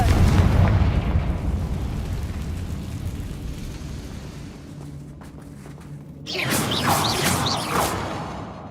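The Confringo blasting spell from Hogwarts Legacy gives a booming explosion with a rumbling whoosh, first as a loud blast that fades to a low roar, then as a bright second burst near the end.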